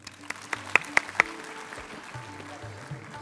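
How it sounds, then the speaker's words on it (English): At an award presentation for winners at a healthcare management session, a few scattered hand claps ring out near the start, then quickly thin into a quiet room. "big round of applause."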